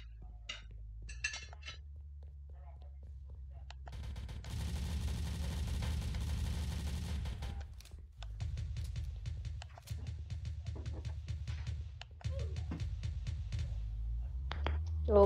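Gunfire in the Roblox video game, including sniper shots, comes as a dense three-second burst of rapid shots, then scattered sharp single cracks and clinks over a low game background, with faint talk.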